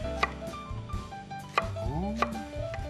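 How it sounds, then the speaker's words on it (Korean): A knife chops round Korean squash on a cutting board for soybean paste stew with beef brisket, giving several sharp, close taps at uneven intervals over a busy kitchen background. "호박도 좀 뚜걱뚜걱하게 이렇게 쓸어 놓으시자고요"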